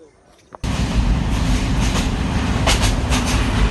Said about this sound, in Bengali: আমরা একটা লোকাল ট্রেনের জন্য অপেক্ষা করতেছি।